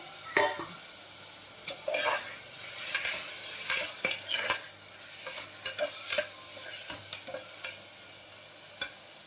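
Onions sizzle steadily in a pan while a utensil scrapes and stirs with irregular clacks and scrapes, close by, no voices.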